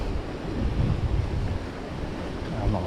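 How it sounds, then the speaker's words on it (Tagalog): Moderate sea waves wash and surge in a steady low roar mixed with wind buffeting the microphone at a shore fishing spot. "Sakto lang yung alon niya ngayon."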